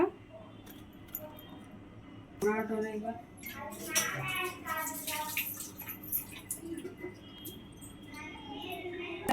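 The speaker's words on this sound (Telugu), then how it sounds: "వంకాయలు అయితే ఇలా వాటర్లో వేసేసుకున్నాను" Slit eggplants for an Andhra-style stuffed brinjal curry are dropped into a bowl of salted water, giving a few splashes and clinking knocks in the middle of the clip, with a voice talking.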